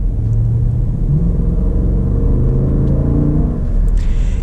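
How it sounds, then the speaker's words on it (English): A 2020 Jeep Grand Cherokee SRT in sport mode accelerates hard, its engine rising in pitch through quick gear changes with a loud, close, continuous rumbling roar. "Now let's get a little acceleration here with the SRT to see how it performs"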